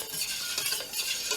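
Powder being stirred into hot water for mango jelly, a soft continuous swishing and scraping in a bowl, steady and close with no voices.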